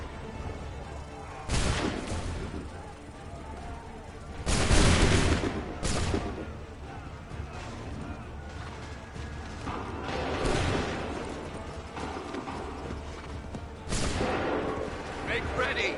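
Massed musket volleys in the game Assassin's Creed 3, with a few loud, sharp bursts from a firing line standing out over steady battlefield noise and background voices.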